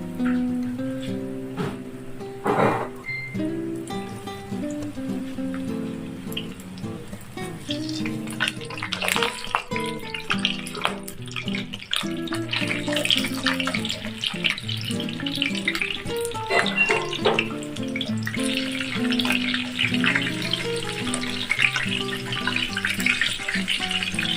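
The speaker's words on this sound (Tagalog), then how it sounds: "So, ito na yung ating oil. Medium heat lang yung ating apoy, guys. At prito na natin." Steady crackling sizzle of breaded chicken cordon bleu frying in hot oil over medium heat, continuous and close, with a few louder spatters.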